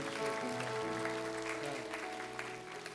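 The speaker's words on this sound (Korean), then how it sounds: "우리 졸업생들 위해서 큰 박수와 축복으로 감사함을 해주시겠습니다" An audience at a church young adults' worship service applauds graduates, with continuous clapping over sustained musical tones, steady throughout at moderate volume.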